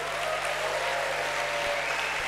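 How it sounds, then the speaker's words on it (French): Audience applause fills the hall at the Cannes Film Festival's Un Certain Regard closing ceremony in 2015, a steady, dense clapping from a large crowd that continues without a break. "Merci donc de les applaudir chaleureusement."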